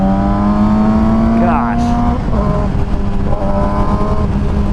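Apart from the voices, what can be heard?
2007 Yamaha YZF R6 motorcycle exhaust on mountain road ride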